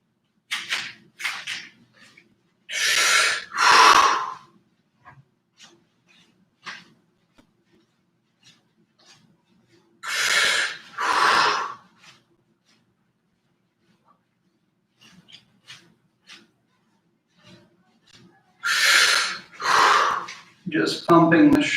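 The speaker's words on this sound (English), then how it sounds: "We're breathing a little bit in and out, resting at the bottom." Slow breathing in and out during a rehab exercise, heard as a few loud, breathy airflow cycles spaced apart by quiet pauses, close and alone.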